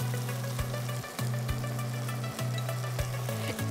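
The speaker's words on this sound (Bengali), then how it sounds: "আমি এখন এটার মধ্যে চিংড়ি মাছগুলো দিয়ে দিব। আজকে দিও মা। আস্তে দিতে বলেছি কিন্তু। হ্যাঁ, ওই যে তেল ছিটে যাচ্ছে" Prawns dropped into hot oil, giving a continuous close sizzle with fine spattering crackles and small pops. A soft tonal hum runs underneath, and there is no talk.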